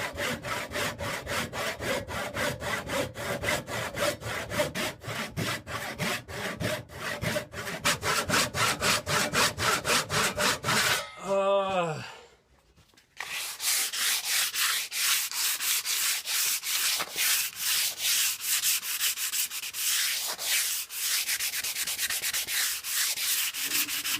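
A double bit axe head is sanded by hand with 120 grit sandpaper in steady back-and-forth strokes, loud and close, broken by a brief pause partway through before the rhythmic rubbing resumes.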